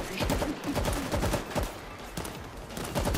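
Rapid bursts of automatic gunfire in the zombie shooter World War Z Aftermath, dense and repeated shots stacking into a fusillade with brief pauses, loud and close.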